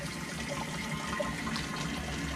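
Water runs steadily from a pump-fed tap into a plastic drum outdoors, a continuous close splashing fill with no talk.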